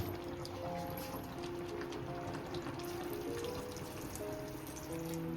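Water poured into a simmering masala for goat liver curry, a steady trickling splash with faint tonal ringing from the pot, continuous and close throughout.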